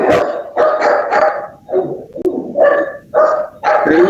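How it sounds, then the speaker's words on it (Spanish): Dog barking in a series of about seven loud, close barks and yips in uneven bursts, with brief pauses between them. "Diego, estoy escuchando a tu perro"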